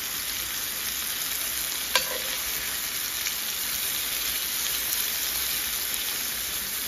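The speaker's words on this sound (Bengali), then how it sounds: "এই সব চিকেনগুলো আমি সুন্দর করে" Chicken pieces fry in a pan with a dense, constant sizzle, close and steady, with a brief clink as pieces are turned.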